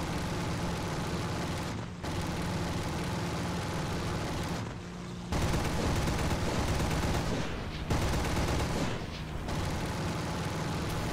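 In the War Thunder flight game, a Bf-110 fires its cannon in long, dense, roaring bursts over engine drone, broken by a few short pauses, loud and continuous.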